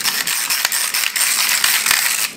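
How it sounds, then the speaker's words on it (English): Ratchet pepper grinder being cranked back and forth, a loud, close, continuous clicking rasp with rapid pawl ticks and brief pauses at each change of direction, no talking. "I'm using my Ratchet pepper grinder that I got at Sherlock Cobb, and it's so neat because instead of twisting the top, you just ratchet it back and forth"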